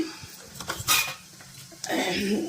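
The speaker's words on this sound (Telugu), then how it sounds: "నేను రెండింటికి కలిపి తాలింపు ఇస్తున్నానండి" Tempering poured over two chutneys in a home kitchen, with brief metallic clinks of a pan and spoon, then a loud burst of sizzling that carries on to the end.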